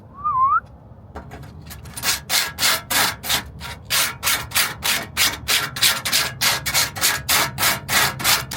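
A car fender being sanded with 80-grit abrasive, a loud rhythmic rasping of regular back-and-forth strokes, close up and alone after a brief squeak at the start.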